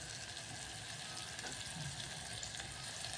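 Poha cooking in a frying pan as turmeric and salt are added, giving a steady, even sizzle throughout with a faint clink or two, close and continuous, with no talk.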